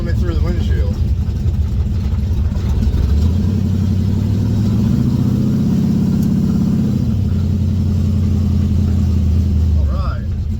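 Chevrolet Vega with a swapped transmission, heard on its first ride of the year: a close, mid-pitched engine hum that rises in a rev around the middle and then settles, with a voice talking over it.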